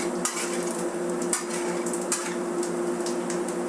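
Scrambled eggs are stirred on a flat grill with steady sizzling and frying noise, a few sharp spatula taps against the metal, and no voices.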